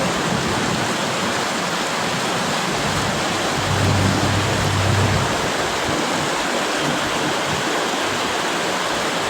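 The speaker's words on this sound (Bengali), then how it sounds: "আসলে মুসুলধারে বৃষ্টিপাত হচ্ছিল" A torrential downpour of heavy rain in Malaysia makes a dense, loud, unbroken roar of pouring water that fills the whole stretch, with no voices.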